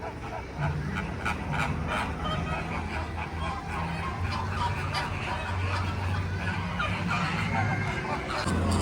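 Fighting flamingos at SeaWorld San Diego squawk and honk in a noisy, overlapping clamor, with harsh repeated calls and crowd murmur throughout.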